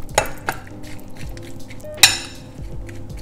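Millet with pesto being stirred over pumpkin in a baking dish, with a few sharp clinks of a utensil against the dish and soft scraping between them, close and without talk.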